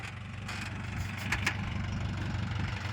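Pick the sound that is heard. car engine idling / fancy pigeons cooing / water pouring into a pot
car engine idling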